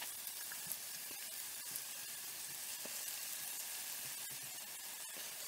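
Plant-based sausages sizzle in a frying pan, a steady, faint hiss with light crackles and pops scattered throughout, and no voices.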